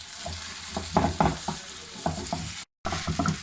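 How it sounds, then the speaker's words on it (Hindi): Chow mein ingredients stir-fried in a pan over a high flame, a continuous sizzle broken by repeated tossing and scraping strokes, one brief dropout near the end, close with no talk. "गैस मैंने अब भी बिल्कुल हल्की नहीं की, हाई फ्लेम पर ये सब डाल रहा है। हम अब अच्छे से मिक्स करेंगे।"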